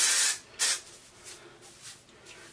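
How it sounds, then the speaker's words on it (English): Big Sexy Hair root booster hairspray is sprayed onto hair roots in short, close bursts of hissing aerosol, followed by fainter, softer spritzes. "I'm going to spray this big sexy hair. This is the root booster."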